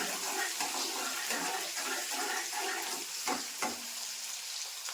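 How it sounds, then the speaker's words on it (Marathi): Onion dropped into hot, already-used frying oil in a home kitchen, giving a steady broadband sizzle with brief stirring and clattering bursts, close and continuous with no talk. "तर मी आता ह्याच्यात कांदा टाकून घेते. चांगला फ्राय करून घेते."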